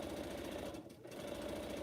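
A sewing machine stitches pineapple quilt blocks in a steady, rapid chatter of needle strokes, close and even, dipping briefly for a moment midway before resuming at the same pace; no voices.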